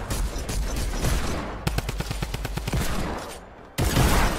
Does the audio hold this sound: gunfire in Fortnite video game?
yes